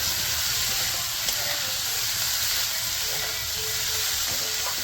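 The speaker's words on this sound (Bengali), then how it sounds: "এবারে ভালো করে একটু ভেজে নেব" Pointed gourd frying with salt and turmeric gives a steady, close sizzle and hiss throughout, with faint stirring touches and no talk.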